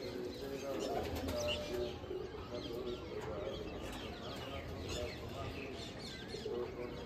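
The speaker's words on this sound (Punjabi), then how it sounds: "ਆਓ ਪੰਜਵਾਂ ਪਰਿੰਦਾ ਵੀ ਛੱਡਦੇ ਨੇ ਵੀਰ ਜੀ ਹੁਣੀ" Racing pigeon let go from a rooftop during a pigeon flying club tournament in Amritsar, with faint wing flaps and soft bird calls and coos over steady outdoor background noise and occasional voices.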